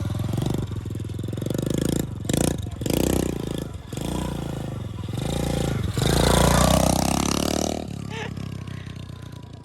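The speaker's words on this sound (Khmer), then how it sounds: "ម៉ូតូសម្រាប់ក្មេងប៉ុន្តែកម្លាំងខ្លាំងមែនតើ" A kids' 110cc off-road motorcycle climbing a hill, its engine revving loud and close with rising and falling pitch, brief drops between bursts of throttle, and a voice heard faintly now and then.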